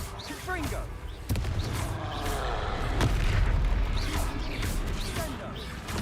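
Booming blasts from the Confringo fire spell in a Harry Potter video game ring out over battle noise, with a shouted incantation among the spoken voices.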